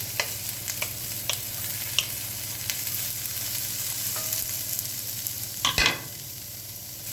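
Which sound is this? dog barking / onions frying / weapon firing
onions frying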